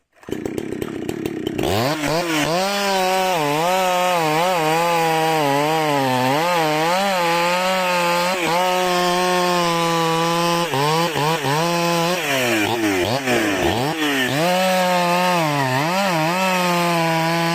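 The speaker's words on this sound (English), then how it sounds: "a worker in protective gear was using a chainsaw to cut into a large tree trunk." Chainsaw cutting into a large tree trunk in a big shady garden, a loud, sustained engine roar that rises and falls in pitch as the chain bites, running continuously and close after a brief start.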